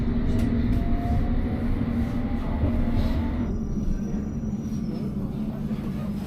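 A London train pulls away from a platform and runs on, a steady loud low rumble of wheels and carriage with faint squeals and whines above, continuous and close, no voices heard.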